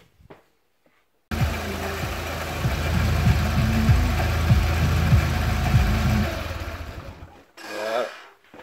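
A Smart Fortwo engine starts after a brief quiet stretch, then idles loudly and steadily with a low rhythmic thrum for several seconds before dropping off, followed by a short burst of other noise.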